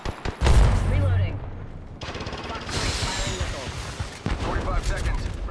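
Gunfire in the shooter Apex Legends: close, loud bursts of rapid automatic fire with sharp shots and clattering mechanical sounds, broken by brief pauses, with a voice talking over parts of it.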